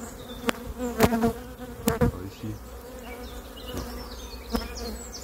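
Honeybees buzz densely around a hive being transferred from a nucleus box to a full hive, a steady close hum with sharp knocks and handling noises and a brief spoken word.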